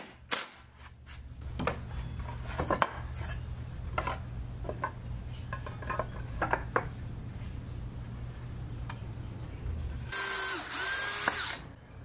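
A power drill drilling wooden slats whirs steadily for several seconds over a low mechanical hum, with short bursts of clattering handling noise, then a louder, higher whine near the end.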